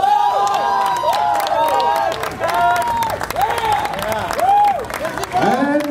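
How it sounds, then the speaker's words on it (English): An audience at a junior 70kg bodybuilding contest claps and cheers loudly, with shouts and whoops rising repeatedly over continuous applause in a lively, crowded hall. "let's give out a round of applause"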